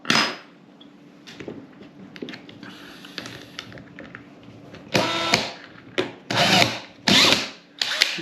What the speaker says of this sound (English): You can put a masonry bit in there, drill your holes.